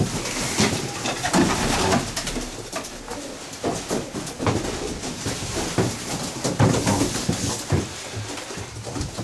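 About 35 male pigeons coo steadily and repeatedly in a busy chorus inside a loft, with scattered wing flaps and shuffling close by.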